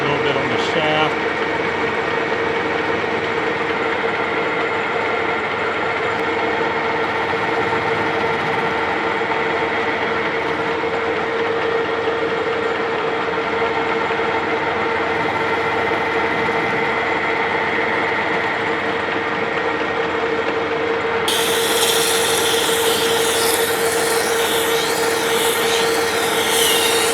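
A lathe turns down the motor shaft of a Crescent double disc sander, giving a steady, continuous machine hum with a constant tone that stays level and close throughout, brightening slightly near the end.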